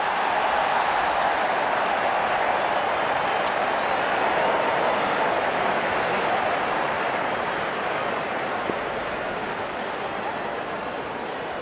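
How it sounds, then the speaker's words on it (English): Crowd at a cricket match in a video game cheers as the openers walk out, a broad, steady roar of massed voices and applause holding loud and even throughout, with no distinct speech. "Openers walking in and the crowd cheering in anticipation."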